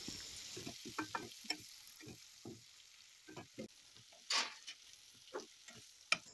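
Onions frying with turmeric, salt and cumin-fenugreek powder, a faint, low sizzle punctuated by repeated quick scraping strokes of stirring in a pan, quiet and without speech.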